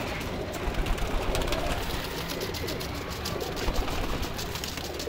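A flock of around fifty pigeons coos and rustles nearby, a steady mass of soft calls over a dense background hum, with no clear talk.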